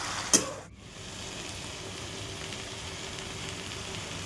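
Lentil badis dropped into a pan of cooked-down spinach, giving a brief sharp crackle followed by a steady, moderate sizzle of frying oil that carries on throughout with no talking.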